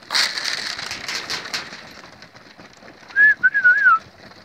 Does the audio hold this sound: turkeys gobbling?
no